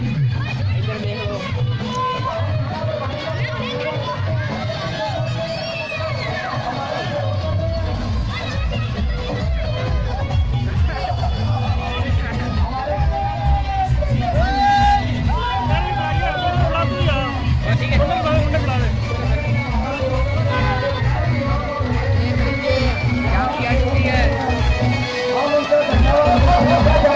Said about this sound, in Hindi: देखो रावण दहन के लिए कितनी भीड़ है